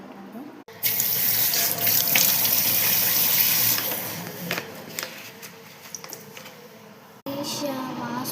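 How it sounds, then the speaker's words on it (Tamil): Water gushes from a tap into a sink in a steady, close stream while a face is being washed, with brief handling noises and quieter moments at either end. "இதை போய் மூஞ்சி கழுவிடுங்க"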